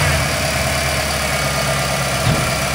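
A car engine fitted with a Holley Terminator HP EFI system idles steadily, with a constant low rumble and slight vibration and no voices.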